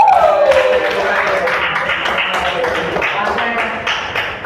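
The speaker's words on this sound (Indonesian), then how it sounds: "Thank you, tepuk tangan buat Muhammad." Classroom applause for a student named Muhammad, a steady patter of claps from a group of students filling the room for several seconds, with voices mixed in underneath.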